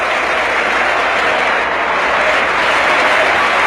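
Sustained, enthusiastic applause filling a legislative chamber as Cory Aquino enters, a loud, continuous wash of clapping from a large crowd with no breaks.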